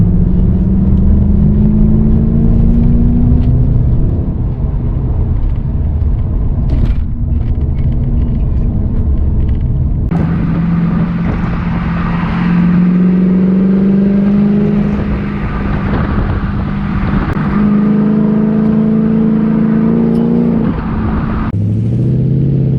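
A Lexus GS with an upgraded rear sway bar drives through corners, its engine revving up and settling repeatedly as it accelerates out of each bend, loud and close with a steady road rumble underneath.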